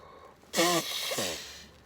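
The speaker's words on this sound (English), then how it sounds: "I always blow my nose." A person blowing their nose once, a loud forceful nasal blast of under a second followed by a softer trailing honk, close and alone.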